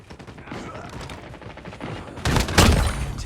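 Gunfire in Call of Duty Mobile during a Hardpoint match, steady rattling shots under game noise that swell into a louder, heavier burst near the end, with a voice talking over it.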